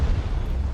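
Tank cannon fire from the Far Cry 6 video game, a sustained low rumbling boom filling the short moment, loud and dense with no talk over it.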